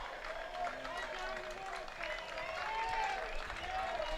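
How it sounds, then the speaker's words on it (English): Baseball crowd on its feet cheering with a 1-2 count, one strike from the final out, a steady roaring wash of voices and clapping with a play-by-play announcer talking over it. "Crowd to their feet, trying to root on Street to the final strike."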